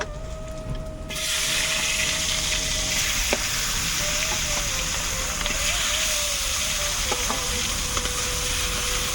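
Rui fish pieces sizzle and crackle in hot oil for laafa greens and rohu curry, a steady close frying hiss that jumps louder after the first second and carries on unbroken with small spits and pops.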